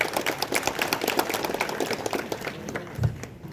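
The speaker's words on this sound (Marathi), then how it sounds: "या सर्वांसाठी आपण स्वतःसाठी टाळ्या वाजवल्या पाहिजे" A crowd claps steadily at the launch of a ward 8 municipal election campaign, a dense, continuous patter of many hands that thins slightly toward the end.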